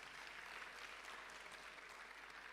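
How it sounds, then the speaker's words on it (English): An audience at an ICGC church hangout applauds a guest as he walks to his seat, a dense, steady wash of clapping heard faintly from a distance. "Let's clap for him as he goes to the seat."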